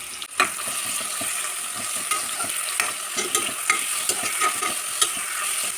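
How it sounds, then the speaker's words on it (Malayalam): Onions, green chilies, ginger and garlic sauté together in hot coconut oil, a steady close sizzle with repeated spoon scrapes and clinks against the pan throughout, no voices. "എണ്ണ ചൂടാകുമ്പോൾ ഇതിലേക്ക് സവാള, പച്ചമുളക്, ഇഞ്ചി, വെളുത്തുള്ളി എല്ലാം ഒരുമിച്ചിട്ട് വഴറ്റിയെടുക്കാം."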